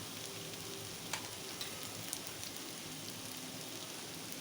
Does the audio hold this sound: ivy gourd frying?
yes